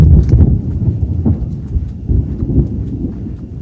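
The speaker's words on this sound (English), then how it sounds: "Big thunder, big storm." Thunder from a nearby storm in rural Phetchabun, Thailand: a loud, deep, rolling rumble that swells and surges unevenly through the whole stretch, with no talking.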